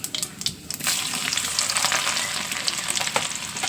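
Cumin seeds crackle and sizzle in hot oil in a pan, a dense, loud hiss with sharp popping bursts, close up and with no voices.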